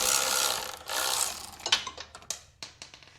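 A socket and bolt fall while an engine is pulled from a fire-damaged square-body Chevy C10 being LS swapped, giving a run of sharp metallic clatters and bounces after a stretch of scraping ratchet noise.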